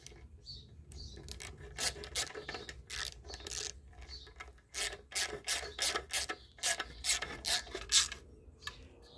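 A bolt is threaded into a Vortec 350 small-block timing cover, giving faint, close, rhythmic metallic rasping and ratcheting turns that grow louder in quick bursts toward the end, with no talking.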